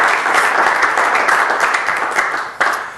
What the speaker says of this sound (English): give yourselves a round of applause if you wouldn't mind